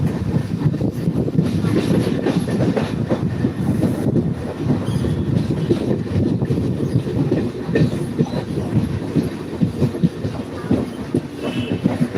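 A train rumbles steadily along the rails, with rhythmic clattering of wheels and a continuous loud mechanical roar from up close.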